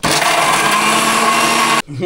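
A mixer grinder whirs loudly and steadily, then cuts off abruptly near the end, leaving a brief quieter tail.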